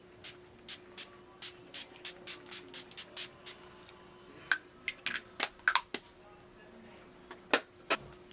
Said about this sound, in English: now I'm going to set my makeup with the makeup setting spray from Urban Decay